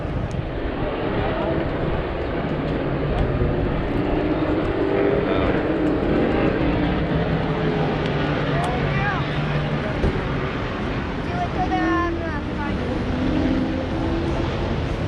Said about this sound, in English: The little bigger motor takes a while for that turbo to get spooled up in that Toyota GTP car.